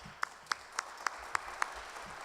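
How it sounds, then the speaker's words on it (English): Applause at an annual town meeting comes through as faint, distant, slow claps, six evenly spaced hand claps about every quarter second, against a quiet room tone. "I'd like to give her a round of applause for the good job she does"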